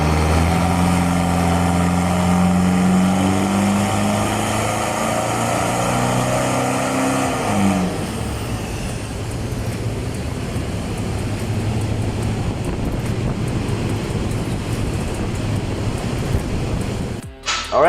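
A Toyota Innova fitted with a CRL performance exhaust runs on a dyno, first as a steady, tonal engine drone, then as a loud, broad roar that holds until it cuts off abruptly at the end.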